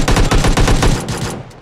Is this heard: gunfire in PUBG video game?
yes